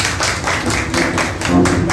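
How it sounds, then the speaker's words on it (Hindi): Audience applause at a book cover launch during an Independence Day flag-hoisting event, steady rhythmic clapping from a gathered crowd, fairly close and continuous for two seconds. "तालियां बजा देंगे तो थोड़ा अच्छा सा लग जाएगा।"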